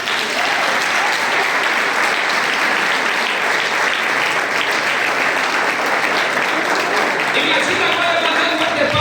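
A church congregation at a communion service applauds loudly and continuously throughout, a dense wash of clapping close around the listener.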